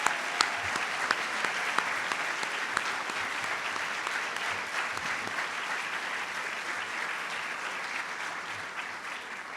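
Steady applause from a sizable convocation audience for award recipients, sustained clapping with no voices on top, holding at an even level before easing slightly toward the end.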